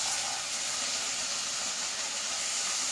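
Tomatoes hit well-browned frying onions in a pan for dal tadka, giving a loud, even hiss of sizzling that stays constant from start to finish.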